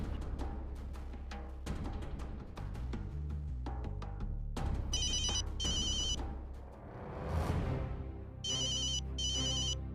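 A phone ringtone rings loudly over a steady background of music and household noise, its bright electronic tone sounding in two separate bursts, each made of a pair of rings.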